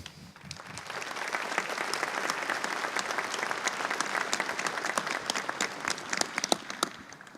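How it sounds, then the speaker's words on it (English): Sustained audience applause fills a hall of fame ceremony, steady dense clapping from a large crowd that swells early and holds at full strength throughout, with no voices over it. "Let's give them another round of applause."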